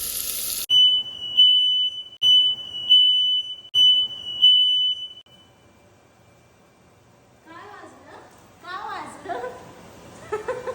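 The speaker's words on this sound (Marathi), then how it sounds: "आता इथला बीपर वाजायला चालू झाला." A home smoke alarm shrills in four loud, evenly spaced bursts while onions cook, then stops; a person begins talking afterward over a quiet sizzle.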